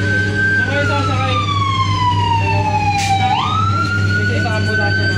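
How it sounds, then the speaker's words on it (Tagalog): An ambulance siren wails steadily, its tone sliding slowly down then back up, over a constant low engine rumble, loud and nearby. "Isa ambulansya na."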